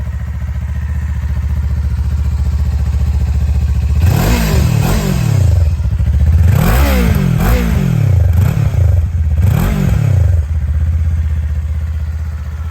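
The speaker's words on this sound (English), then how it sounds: "If you've heard a Kawasaki Ninja 400 or a 650, it sounds very similar." A 2024 Kawasaki Eliminator SE ABS idles loudly up close, then is revved through several quick rising-and-falling throttle blips before settling back to idle.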